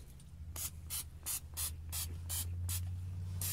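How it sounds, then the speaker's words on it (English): Several short bursts of Pam aerosol cooking spray hiss in quick succession onto grill grates, close by, over a low steady hum. "We're just going to spray some Pam"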